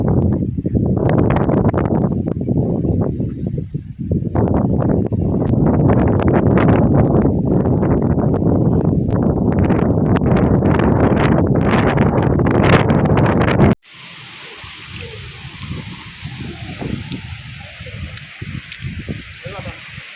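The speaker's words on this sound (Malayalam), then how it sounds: "ഇപ്പം ഭയങ്കര കാറ്റാണ് ഇവിടെ" Strong wind buffets the microphone on the rocky Kudukkathupara hilltop near Anchal as rain sets in, a loud continuous roaring rumble that drops suddenly to a softer gusting hiss, with voices talking over it.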